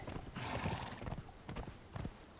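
Horse hooves clip-clopping in the video game Conan Exiles, a quick uneven run of close thuds with a whinny mixed in, no talk over it.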